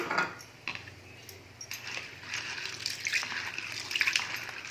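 Running water splashes and sloshes as chana dal is rinsed in a bowl, with occasional clinks of a utensil against metal.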